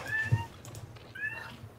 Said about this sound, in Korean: 고양이 발정 나가지고